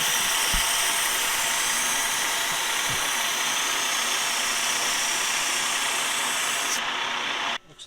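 Emery cloth rubbing a stainless steel pin spinning on a lathe, a steady bright hiss over the running machine, continuous and close, cutting off at the end.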